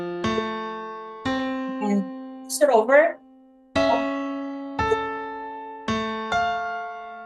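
Piano chords of the Flintstones theme, a Faber ChordTime popular arrangement, ring out in separate struck hits that sustain and decay, with a short spoken phrase in the middle.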